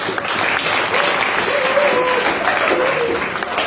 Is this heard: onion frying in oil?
no